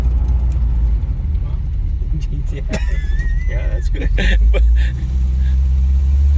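A 1955 Chevy Nomad rumbles low and steady on its first drive after brake work, the engine heard from inside the car beneath fairly constant conversation between occupants.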